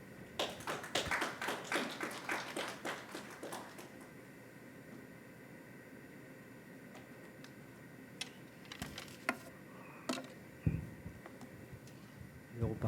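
An audience at a climate crisis forum gives light, scattered clapping for the incoming keynote speaker. It dies away after a few seconds into a quiet hall with occasional soft taps.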